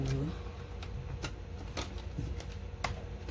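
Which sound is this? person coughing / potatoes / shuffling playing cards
shuffling playing cards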